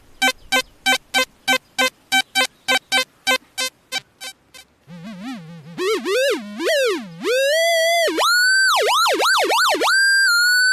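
XP Deus II metal detector sweeping over buried targets: rapid regular electronic beeps, then a low, buzzy square-wave tone that warbles and rises and falls in pitch, loud and continuous toward the end.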